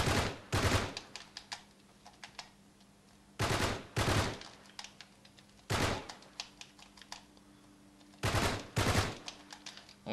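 Video game gunfire in Uncharted 3: sharp bursts of rapid automatic shots in several separate volleys, each a cluster of loud cracks, with a faint hum and clicking between them.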